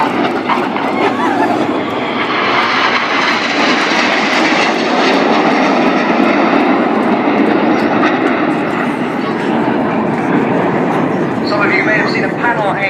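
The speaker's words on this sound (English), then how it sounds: "look right for a lone jet who is Red 9" Red Arrows jet flying past at an RAF Cosford airshow, a loud sustained roar of engine noise that swells and holds steady across the whole stretch, with crowd or commentary sounds mixed faintly beneath.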